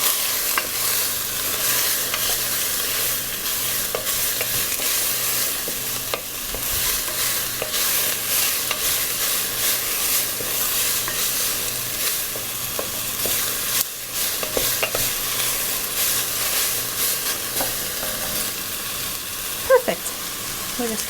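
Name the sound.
celery sautéing, stirred with wooden spoon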